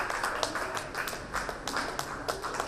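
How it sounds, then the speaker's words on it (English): Parents clapping for children at a pre-school annual day, a scattered round of applause with irregular sharp claps, moderately distant in a room. "Please encourage them by clapping."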